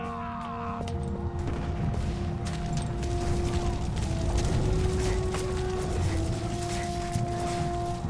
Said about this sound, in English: They're using the Grand Mortars!